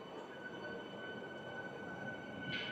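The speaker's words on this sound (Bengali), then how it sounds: "রানাঘাট থেকে বেরিয়ে গেল শিয়ালদার উদ্দেশ্যে এসি ইএমইউ ট্রেন" An AC EMU local train pulls out of Ranaghat Junction bound for Sealdah, a steady close rumble with a sustained electric whine, and a brief hissing burst near the end.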